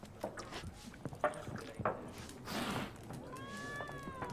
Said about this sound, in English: Hello, kitty.